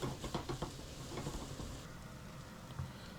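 Onions slowly caramelizing and softening in a pan give a steady, gentle sizzle and patter throughout, with a few soft stirring scrapes near the start.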